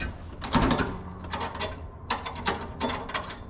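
Cutting deck height lever on a Scag mower being dropped to a lower setting, a few clunky metallic ratcheting clicks and clanks close by.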